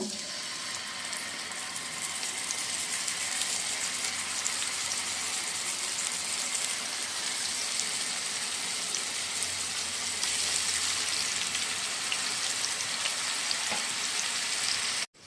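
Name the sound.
fish frying in oil used for fried onions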